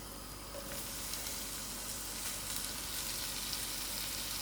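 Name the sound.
onions frying in melting margarine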